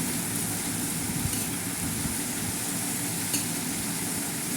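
Chicken frying in a pan, a steady dense sizzle with faint scraping as it is stirred, close and continuous, with no voices.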